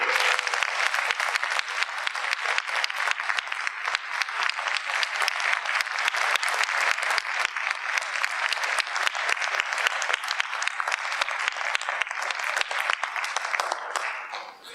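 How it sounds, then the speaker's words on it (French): Long, thunderous applause from a convention audience at a Toulouse gaming show welcoming a special-effects artist, dense continuous clapping that stays loud and steady, dropping off abruptly at the end. "Nous allons vous demander de réserver un tonnerre d'applaudissements à Monsieur Greg Nicotero."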